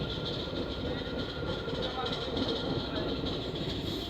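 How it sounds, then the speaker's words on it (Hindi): Koyna Express, train 11029 from Mumbai to Kolhapur, pulling into Jejuri as a passenger train: a steady, close rumble of rolling coaches and rail noise that holds even throughout, with no break. "2:25 पर हमारी ट्रेन पहुंची है"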